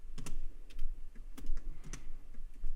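Quick bursts of keystrokes on a computer keyboard, close and distinct, arriving in irregular clusters with short pauses between them, no talking.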